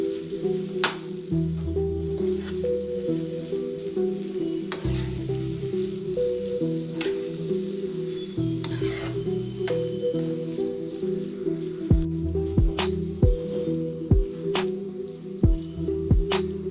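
Pre-boiled broad bean pieces fry in a salt-and-chilli masala for a curry, giving a steady, close sizzle with scattered pops and sharp clicks that grow more frequent near the end.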